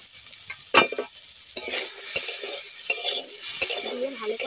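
Kuche fish frying with salt, turmeric and chili powder in a pan, a soft continuous sizzle broken by a few sharp scrapes and clinks of a spoon stirring against the metal.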